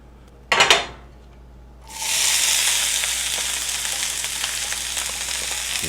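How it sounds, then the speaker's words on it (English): A brief clatter of pan or utensil, then food hits a hot pan and a loud, steady sizzle of searing takes over and holds without talk. "that's when you start getting a really good quality sear on your food"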